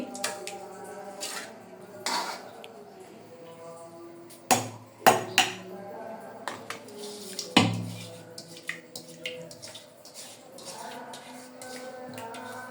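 Tomato sauce ingredients are tipped into a blender jug with scattered clinks and sharp knocks of a utensil against the jug, several distinct hits among quieter rattles, close and otherwise quiet.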